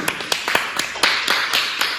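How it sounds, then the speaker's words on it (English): Scattered handclaps from a class of adults and juniors joined over Zoom, arriving as uneven separate bursts rather than a steady roll, moderately loud and with no talking over them. "Can everybody get your hands together and clap for Nahum?"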